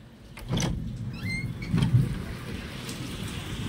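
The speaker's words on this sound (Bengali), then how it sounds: "দেখুন মেঘ ডাকছে, বৃষ্টি নেমে গেছে" Low rumble of thunder during a rainstorm, with a steady hiss of rain and a few soft swells and knocks that rise and fall over a few seconds.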